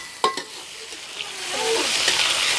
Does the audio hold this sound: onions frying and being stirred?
yes